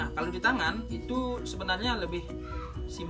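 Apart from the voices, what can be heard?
None of the usual background noises is heard.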